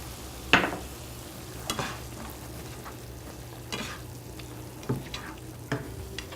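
Mushroom filling for Asian lettuce wraps, with green onions, stirred in a hot pan: a steady close sizzle runs throughout, broken by a few sharp scrapes and clacks of the utensil against the pan.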